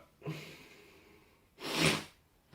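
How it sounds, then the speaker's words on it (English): One person's sneeze, with a short intake of breath followed by a louder explosive burst, close and fairly quiet, with no talking. "I'm gonna sneeze."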